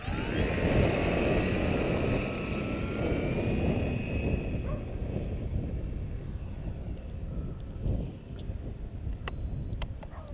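An electric RC AT-6 Texan model plane takes off outdoors in gusty wind, its motor whine building steadily against loud wind rumble on the microphone, with no talking.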